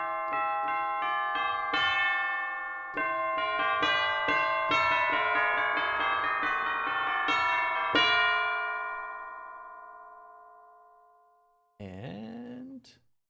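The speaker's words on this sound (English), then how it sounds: "Tubular bells." Tubular bells from an orchestral percussion library ring out in a series of struck notes, each leaving long metallic overtones that pile up and slowly decay; one final lower strike sounds near the end.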